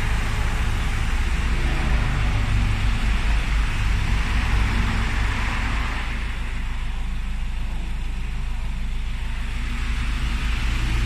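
A Ford Ranger pickup idles steadily after starting, a loud, constant low engine rumble with a faint hiss that holds unchanged throughout, with no voices.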